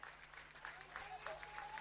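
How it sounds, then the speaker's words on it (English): A boisterous home crowd at Darcy Street applauds after South Hobart beat Devonport City Strikers in a Lakoseljac Cup football quarter final, steady dense clapping and cheering throughout with a voice faintly over it. "being well received by a great home crowd here today"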